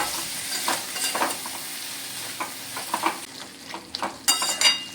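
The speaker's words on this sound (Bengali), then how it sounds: "তো আবারও ভালো করে নেড়ে চেড়ে নিচ্ছি আমি, যাতে তলা না ধরে যায়।" Chicken skin cooks in a little oil while a spoon stirs and scrapes the pan, a soft, close sizzle broken by irregular clattering strokes, no talking.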